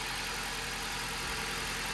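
A 2009 Jeep Compass 2.4L engine runs under load with the parking brake set, giving a steady, even drone with no change in pitch across the short stretch.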